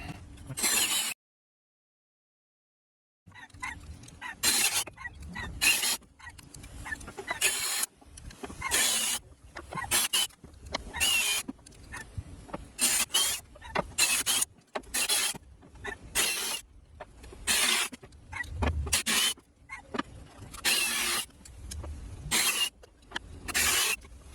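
A power drill bores a series of holes in recycled material for a wall-mounted fishing rod holder, repeated short whirring bursts separated by brief pauses, close and moderately loud.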